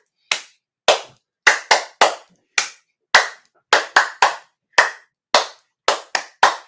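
One person claps hands in a laughter yoga warm-up, sharp and close single and paired claps in a 1-2, 1-2-3 rhythm, each separated by silence, with no talking.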